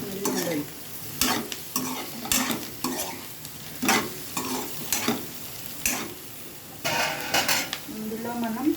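Eggs frying in oil in a pan with capsicum: steady sizzle under repeated metallic scrapes and clanks of a spatula against the pan, close and fairly loud, in an irregular stirring rhythm.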